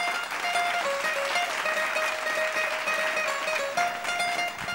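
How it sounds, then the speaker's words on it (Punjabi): An audience at a televised Punjabi singing competition semi-final claps steadily and loudly to welcome the next contestant, a dense continuous applause with tonal music sustained underneath. "ਸੱਦਾ ਦਿੰਦੇ ਹਾਂ ਫਿਰ ਆਪਾਂ ਜ਼ੋਰਦਾਰ ਤਾੜੀਆਂ ਦੇ ਵਿੱਚ ਸ਼ਬਨਮ ਨੂੰ"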